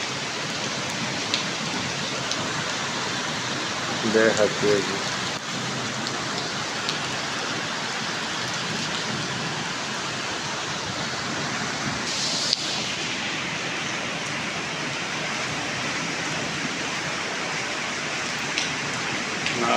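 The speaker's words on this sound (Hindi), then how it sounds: "बारिश तूफानी" Heavy stormy rain pours steadily in a Pakistani village, a dense continuous hiss close by, with a brief spoken remark early on.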